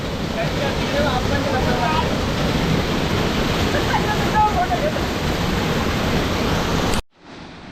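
Steady, loud roar of a perennial forest waterfall near Kupwade village filling the whole scene, cutting off abruptly near the end to quieter background.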